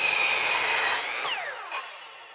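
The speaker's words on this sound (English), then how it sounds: "So now I can just line up my mark to the saw blade and cut this." Miter saw cutting a wooden shed roof rafter at 30 degrees: a loud, close cutting burst that ends after about a second, then the blade whines as it spins down and fades.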